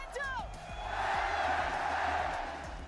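A large crowd roars and cheers at a packed Globals esports watch party, a loud sustained swell of voices with whoops, building and holding steady throughout.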